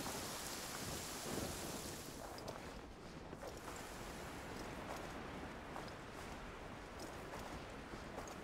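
Heavy rain falls steadily in the video game Genshin Impact, a dense, continuous hiss with soft low rumbling underneath, fairly faint and with no voices.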